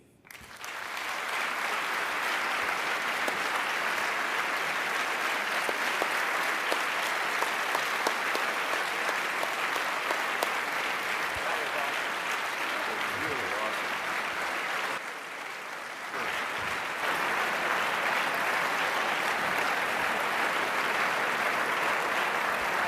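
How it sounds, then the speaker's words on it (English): Thunderous applause from a large audience at a speech's close, dense and steady clapping filling about twenty seconds with a brief dip near the fifteen-second mark before resuming at full strength. "That's a pretty thunderous applause."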